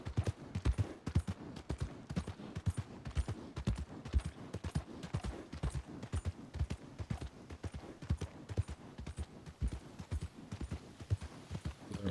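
Horse hooves clip-clopping in steady, rapid rhythm in Red Dead Redemption 2, a continuous close series of sharp thuds running throughout with no voices.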